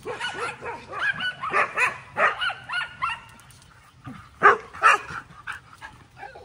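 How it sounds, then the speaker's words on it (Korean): Several dogs at a playground bark excitedly in loud, uneven bursts, some close and some farther off, with brief lulls between volleys. "써니는 이런 운동장에서 미친듯이 짖으면서 뛰어다니도록 환경 설정이 됐었고요"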